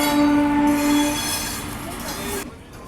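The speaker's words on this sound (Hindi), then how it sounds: "ट्रेन का अराइवल हो रहा है।" A train pulls into a station with sustained squealing wheels and a steady rumble, a high tonal screech running through the first second before settling into rolling rail noise.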